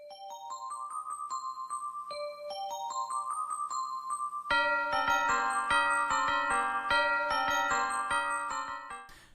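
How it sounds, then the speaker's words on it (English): Bright bell-like tones play the opening of Carol of the Bells, starting as a sparse repeating four-note figure, then swelling into a fuller, louder ringing arrangement before cutting off abruptly. "We hear the familiar opening notes of Carol of the Bells."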